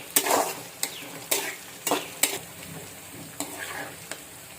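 Bitter gourd pieces fry in a pan for kakarakaya vellulli karam, a soft sizzle broken by several sharp spatula scrapes and stirring knocks at uneven intervals.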